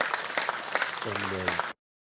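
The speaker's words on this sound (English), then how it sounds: "Round of applause for Miss Strella" Audience applause for a woman introduced on stage at a live event, a dense wash of clapping with a voice or tone rising briefly near the end before cutting off.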